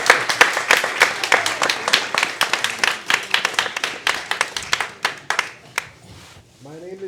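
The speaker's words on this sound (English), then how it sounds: "Let's give another round of applause for Melvin." An audience at an arts evening claps in a dense burst of applause that thins and fades after a few seconds, followed by a voice starting to speak.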